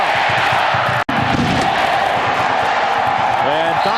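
A packed football stadium crowd of over 65,000 at Kyle Field roars continuously at kickoff, a loud sustained wall of cheering with a brief dropout near the start, and a voice rises over the noise near the end.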